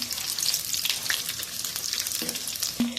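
Eggs frying in hot oil in a pan, a dense continuous crackling sizzle up close, with a couple of brief utensil clinks near the end and no talk.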